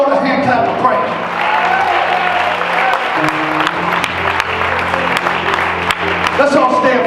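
A church congregation claps hands in praise of the Lord, a loud, sustained spell of clapping with sharp individual claps standing out, mixed with sustained musical tones and voices in the room.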